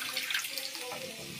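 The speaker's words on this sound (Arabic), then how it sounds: "ننزل حبة مية صغيرين كده على عليها" Water poured from a tap or jug in a small splash onto fava beans simmering in tomato sauce on a stove for a Friday breakfast, a short steady trickle under light kitchen noise.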